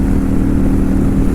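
Kawasaki Vulcan 900 cruiser engine fitted with a Cobra exhaust and a tuner, idling or cruising with a steady, loud low rumble that holds even without a break.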